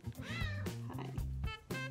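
A pet cat meows twice, close by, with rising, slightly drawn-out calls separated by a short pause, set over a low background hum.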